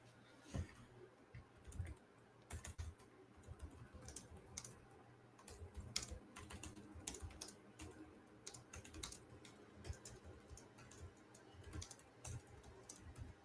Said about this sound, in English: I was typing to Lindsay